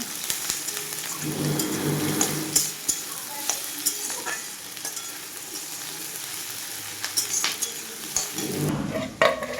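Chopped onion sizzles steadily in hot oil in a home kitchen while a spoon stirs and scrapes the pan, with occasional clinks of utensil on metal. The frying is close and continuous, with no one speaking.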